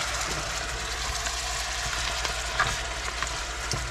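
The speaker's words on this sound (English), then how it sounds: "is about to season this ground meat that she is browning" Ground meat browns in a pan with a steady close sizzle and crackle, punctuated by occasional scrapes and stirring, with no voices.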